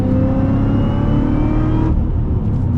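A Cadillac CTS-V engine revs hard while driving, a loud, rich, droning growl from inside the car that holds steady, then eases off near the end.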